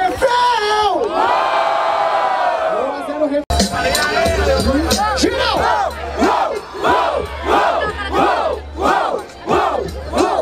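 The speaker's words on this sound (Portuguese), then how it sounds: "Barulho para as rimas do Kike!" A crowd at a Brazilian rap battle roars and cheers in a loud, rhythmic burst of shouts and whoops, close and continuous.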